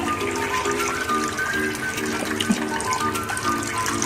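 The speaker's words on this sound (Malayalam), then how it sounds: "1 കപ്പ് വെള്ളം ഒഴിച്ചു കൊടുത്തിട്ടുണ്ട്" A cup of water poured into a pan of mango pickle, a close gushing splash mixed with steady sloshing and bubbling, continuous for a few seconds without speech.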